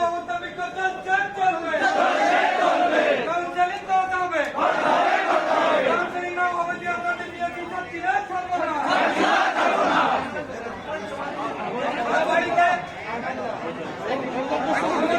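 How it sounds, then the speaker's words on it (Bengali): A large protest crowd chants slogans in repeated rising and falling waves, loud and near, with voices overlapping throughout, outside the Bankura DPSC office over the Primary TET 2014 merit list. "এখানে স্লোগান দিয়া।"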